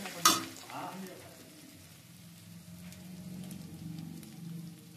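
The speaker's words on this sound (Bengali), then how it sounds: "পেঁয়াজটা ভাজা হয়ে গেছে।" Onion frying in a pan for an eggplant dish, a quiet crackling sizzle after a sharp clatter at the start, with faint low voices or kitchen noise murmuring underneath.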